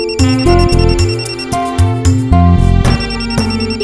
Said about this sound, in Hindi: फोन तो उठा।